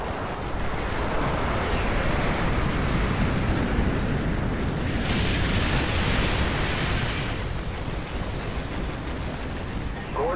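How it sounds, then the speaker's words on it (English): Continuous heavy artillery barrage in Call of Duty Modern Warfare 2, a dense, loud rumble of explosions and bursts filling the whole stretch, with a brighter blast swelling in the middle and faint radio voices underneath. "Artillery inbound."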